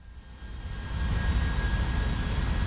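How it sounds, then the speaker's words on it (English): Boeing 757 jet engines roar in the X-Plane 12 flight simulator, a dense, steady rumble that swells after the first second and then holds loud and constant. "There's something they changed with the jet engine model, I'm convinced, because it just really struggles now"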